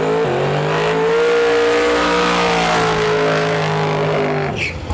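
A street car launches at a drag racing shootout at Saskatchewan International Raceway, its engine roaring loud and close with a rising revving drone, then easing off near the end.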